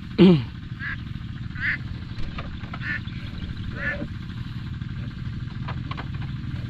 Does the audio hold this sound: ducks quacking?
yes